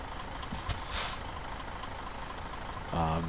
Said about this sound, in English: so let's go ahead and take this truck for a ride